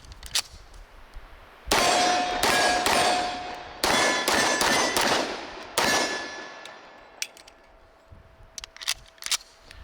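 SIG Sauer P220 Legion 10mm pistol fired at steel targets: a string of loud close shots with ringing metallic clangs, in irregular groups with short pauses, the last ones lighter and fainter.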